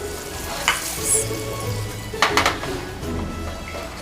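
Rum sauce for a rum cake simmers and bubbles in a pan with a steady low sizzle, broken by a few clinks of a spoon against the pan.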